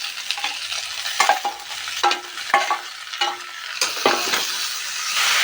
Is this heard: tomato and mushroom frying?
yes